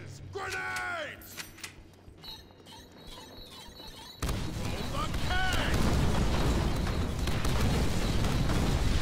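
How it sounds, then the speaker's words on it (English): Grenade blasts in the Deadpool video game: a sudden loud boom partway through, followed by a sustained rumbling roar. Speech and game sounds come before it. "Grenades!"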